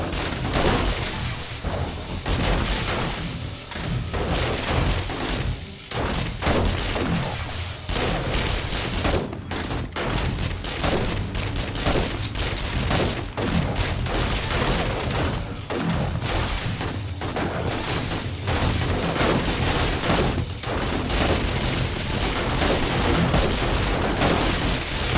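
Turret gunfire in the 7 Days to Die survival game during horde night: dense, nonstop bursts of shots and booms at a steady high level for the whole stretch, with no clear talk over it.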